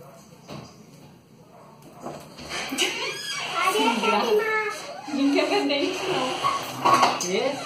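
Dishes and cutlery clink and clatter as they are put away in a home kitchen during a gathering of friends, with irregular knocks of crockery under voices, including children, talking nearby.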